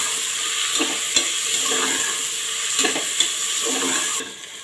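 Chopped onion frying in a pan for chicken biryani, a constant hissing sizzle punctuated by a few clinks and scrapes of a stirring spoon, close up, fading slightly at the end, no talking.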